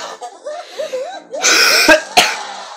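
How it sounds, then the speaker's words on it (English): A few harsh coughs burst out close by, following some quieter vocal sounds and breathy noises. "Sorry, I have a cough."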